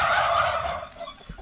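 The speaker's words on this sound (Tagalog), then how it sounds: "May isang manok po." A single farm chicken gives a brief, close, raspy call lasting about a second, with no talk over it.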